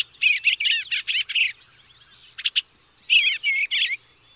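Small birds chirp and sing in bright, quick bursts of trilling notes, a run of rapid phrases, a short pause, then a few sharp calls and another chattering phrase, clear and close against a quiet background.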